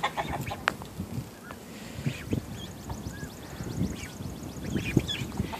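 Chickens in a backyard flock cluck in short scattered bursts close by, with a rapid run of soft peeping calls, likely from baby ducks, in the second half, no voices.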